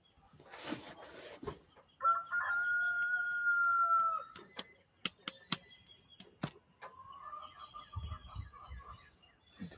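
A backyard chicken clucking and squawking close by, with a long drawn-out call and a run of short, sharp clucks and pauses.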